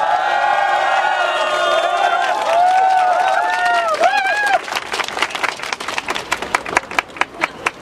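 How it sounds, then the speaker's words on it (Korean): Students gathered at a university press conference erupt in shouts and whoops, then break into loud, close rhythmic clapping that grows sharper and more pronounced as the cheering subsides. "박수와 함성으로 기자회견 시작하도록 하겠습니다"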